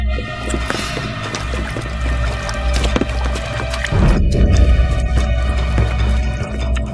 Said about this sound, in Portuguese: A jovem senhora caiu na água!